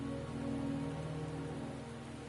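Steady rain pours in the video game Wuthering Waves, a constant close hiss of drops on surfaces with a low tonal hum beneath, unbroken and even throughout.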